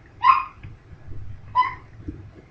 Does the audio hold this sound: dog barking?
yes